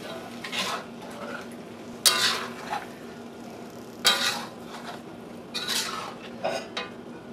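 Sauce poured over chicken and broccoli in a wok, with the metal spatula stirring and scraping in several sharp bursts above a low, steady sizzle.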